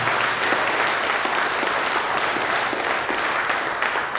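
A crowd at a company's first-anniversary event claps loudly and steadily, a thick continuous roar of many hands that holds at full strength before easing slightly near the end.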